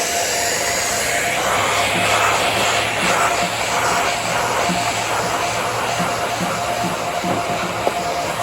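A BigBoi SuckR Pro Plus vacuum runs with its mechanical brush, giving a steady, loud whooshing whine with a faint rumble that holds constant from start to finish.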